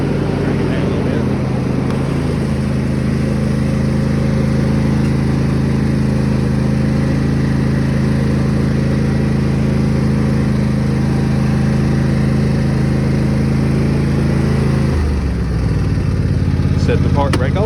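A John Deere S130 riding lawn mower's engine runs loud and close in a steady low drone, with a slight shift in pitch near the end.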